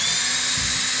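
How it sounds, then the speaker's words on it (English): A handheld power drill bores into a wall at marked spots for molly anchors, giving a loud, close, steady high whine throughout a short burst. "and we're drilling on the marks."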